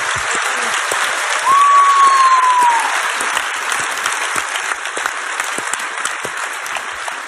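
Sustained applause from a large convention panel audience at a Star Wars Battlefront II event, loud and steady throughout, with a brief whistle near the start.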